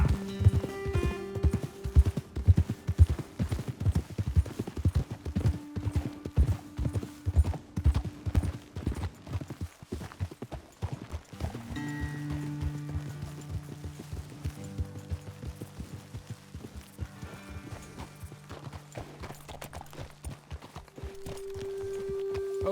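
Horse hooves pounding in a fast, steady gallop across open country in the Red Dead Redemption 2 video game, loud and close, with background music swelling beneath in the second half.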